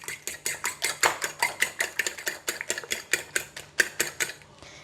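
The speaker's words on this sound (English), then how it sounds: "we're going to beat the eggs" Eggs beaten briskly in a bowl with salt, pepper and spring onions, a fast steady run of close clinking whisk or fork strokes against the bowl, with no talking.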